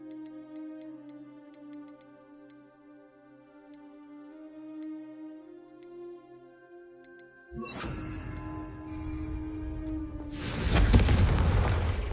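Confringo spell cast in Hogwarts Legacy: after quiet ticking music, a sudden deep booming blast hits, then a second, louder crackling explosion near the end, heard alone without talk.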